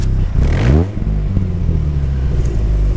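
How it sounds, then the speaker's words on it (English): A turbocharged Mazda RX-5 engine revs hard and accelerates, loud and close, with a rising turbo whine and rumbling roar throughout. "you like going fast and you like turbo sounds, voila!"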